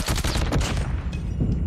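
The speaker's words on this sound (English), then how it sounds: "SMGs are powerful." SMG fire in Call of Duty Zombies comes as a dense, loud, rapid burst of shots rattling without a break for under two seconds, close and with no talk.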